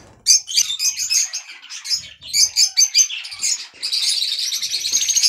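Young pet budgerigars, recently fledged chicks, chirp and twitter continuously in a cage at evening, with bright overlapping calls and a dense rapid chatter building toward the end, close and fairly loud.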